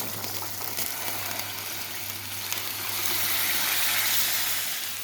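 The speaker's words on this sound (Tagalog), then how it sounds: "Nadagdagan ko lang ng tubig" Water pours into a cooking pot of meat braising in cola and white wine, a steady splashing gush that grows a little fuller toward the end, heard alone without voices.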